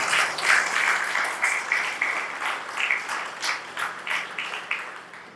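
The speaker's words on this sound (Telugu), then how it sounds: "ఒకసారి మన అందరం చప్పట్లు కొడదాం" An audience applauds at a regional discussion gathering, a steady wash of clapping that swells and fades in uneven waves across the clip without anyone speaking.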